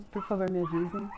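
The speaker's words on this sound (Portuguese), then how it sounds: "e desculpem pelos cachorros" Dogs indoors give short yips and whimpering barks close by, mixed in with a person speaking over them.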